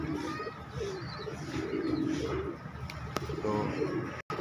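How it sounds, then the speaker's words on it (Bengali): Pigeons at a pigeon farm give low, throaty coos in soft repeated bursts close by, over a steady background murmur. "এটা মাদি কবুতর।"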